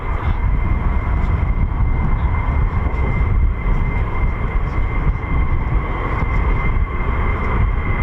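Military fighter jets approach at RAF Lakenheath, a loud, steady low roar that fills the whole stretch without a break. No voices are heard.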